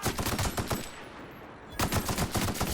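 Rapid gunfire from a weapon in the video game The Outer Worlds, loud and close: a quick string of shots, a short pause, then another burst of shots.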